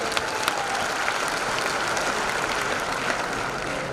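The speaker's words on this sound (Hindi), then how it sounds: "जोरदार ताली बजाइए" An audience applauds loudly and steadily at an Amway Diamond business event, a dense wash of many hands clapping with no one talking over it.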